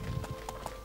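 Horse hooves clip-clop in the medieval survival game Life Is Feudal, a few quick, soft footfalls over a faint background hum, brief and not very loud.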